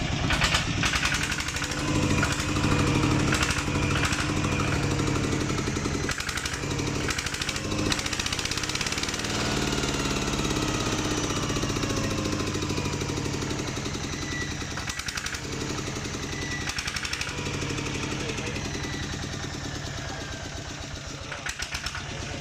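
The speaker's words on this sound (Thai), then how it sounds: "เอาเร่งเครื่องให้หน่อยนะเร่งเครื่องให้หน่อยนะ" A Kubota ZT110DI Plus diesel engine runs steadily and loud throughout, with its revs rising and falling in several swells, alone without any talk.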